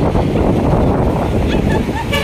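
Strong wind gusts buffet the microphone at Manila Baywalk's Dolomite Beach, a loud continuous rumble with a hint of surf beneath.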